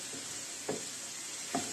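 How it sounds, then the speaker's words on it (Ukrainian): Carrot and pepper frying in a pan for a Ukrainian-style lagman, a steady soft sizzle throughout with two brief louder bursts as the vegetables are stirred. "Смажаться наші овочі, морква, табачок і перчик, я тільки що вкинула."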